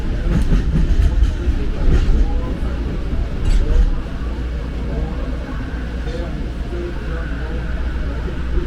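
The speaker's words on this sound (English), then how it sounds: "This is the Howard Beach train, stopping at all airline terminals." The JFK airport AirTrain to Howard Beach rumbles along in a loud steady roar with rail clatter, heard from inside a car as an automated announcement voice speaks over it.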